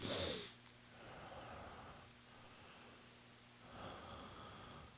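Close-up breathing into a microphone, a loud breathy burst at the start followed by softer airy inhales and exhales with low hum underneath.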